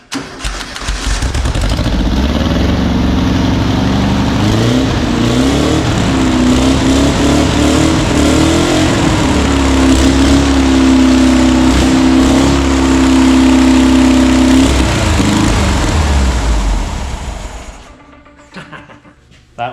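A carbureted car engine fires up right after its carb is filled, catching quickly and running loud and steady with revving for about sixteen seconds before cutting off abruptly, no talk over it.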